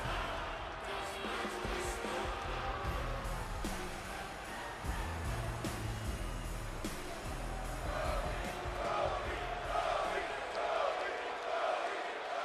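Wrestling arena crowd noise in WWE 2K24, set in the Nationwide Arena in Columbus, Ohio, with a steady roar and thuds, under continuous commentary talk.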